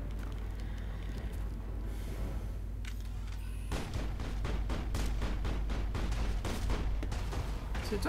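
Rapid rounds of gunfire from the sci-fi shooter Mass Effect crackle in steady, dense bursts over a constant low rumble, growing busier and louder partway through.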